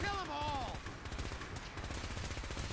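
Rapid automatic gunfire rattles through a Fallout 4 firefight, a dense burst of repeated shots after a brief electronic warble, loud and steady to the end.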